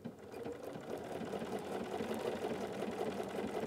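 A sewing machine runs steadily, blanket stitching along the edge of applique fabric with a continuous rapid mechanical whir and fine repeating stitch ticks at moderate volume.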